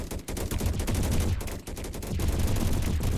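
Rapid bursts of gunfire from gun turrets and a laser cannon crackle continuously in a swarm survival strategy video game, dense overlapping shots with brief gaps and no voices.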